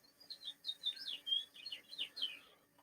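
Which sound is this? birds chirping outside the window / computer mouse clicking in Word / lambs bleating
birds chirping outside the window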